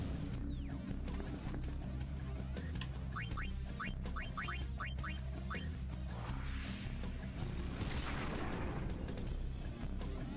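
The Giga Cannon attack fires in Chocobo Mystery Dungeon, a video game: a dense, continuous barrage of booming blasts with a run of quick rising chirps and a sweeping whoosh over a low rumble.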